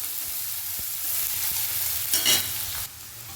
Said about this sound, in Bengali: পেঁয়াজটা দিয়ে একটু নাড়াচাড়া করে নেব, মানে হালকা একটু ভেজে নিতে হবে আগে পেঁয়াজটাকে।